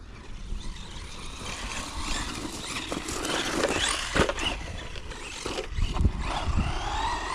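A Maverick Quantum2 ST Flux RC car motor revs out of the box in surging bursts, its whining roar rising and falling with sharper throttle blips near the end, close by and without speech.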